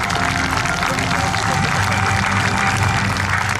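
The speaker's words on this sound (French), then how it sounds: "je vous demande, mesdames et messieurs, de les applaudir" An audience at the Melun Villaroche airshow applauds, a dense, steady wash of clapping that holds at an even level throughout, with no clear gaps or individual claps standing out.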